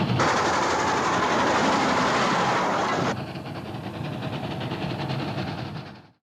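A train rolls along at the Travel Town outdoor railroad museum in Griffith Park, a loud steady rumble with a faint rhythmic clatter that drops to a softer roar before fading out, with no talk.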